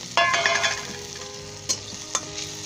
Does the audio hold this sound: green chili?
yes